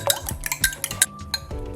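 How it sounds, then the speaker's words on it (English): Eggs beaten in a bowl for Easter bun, a quick irregular run of clinks and taps of utensil on bowl, close and clear, without talk. "and then beat the eggs"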